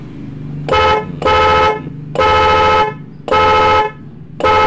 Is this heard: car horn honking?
yes